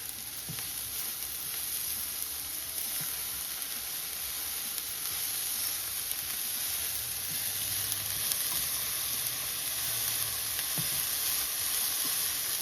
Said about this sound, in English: I'm gonna let the sugar melt up a little.